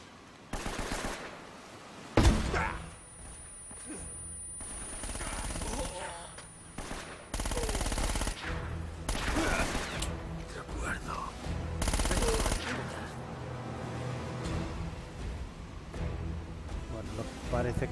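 Rapid gunfire bursts in the Uncharted: Drake's Fortune remastered video game during a customs office shootout, loud repeated volleys and single shots spread throughout, with a player talking over the action.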